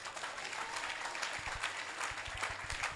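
A church congregation claps together in a steady, even patter of applause, moderately loud and filling the room for the whole stretch.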